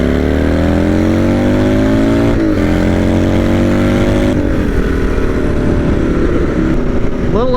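A turbocharged vehicle accelerates hard with boost turned up, its engine loud and close throughout, the pitch climbing steadily through gears with brief dips at shifts and a rising whine beneath the roar.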